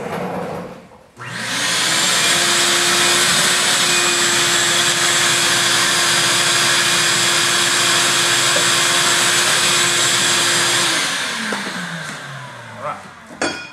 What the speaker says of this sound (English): take your vacuum cleaner and clean all that up